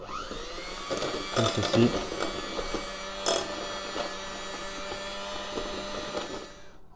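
Electric mixer beating softened butter into coffee buttercream for a dacquoise, a steady close motor whir with clattering bursts early on, while a person speaks briefly.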